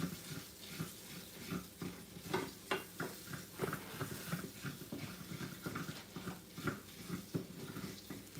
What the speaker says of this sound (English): I'm gonna fry that down for maybe like 2 minutes or so.